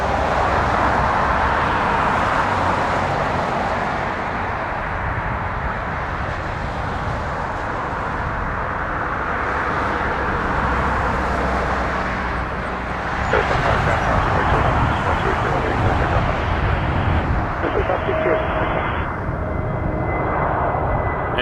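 TAP Air Portugal Airbus A321neo airliner at Toronto Pearson, its engines a steady broadband roar heard from a distance for about twenty seconds with traffic-like rumble underneath, growing slightly louder midway.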